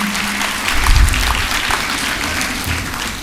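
An audience at a morning school event bursts into steady, close applause from a crowd of parents. The clapping rises and then holds dense and even throughout.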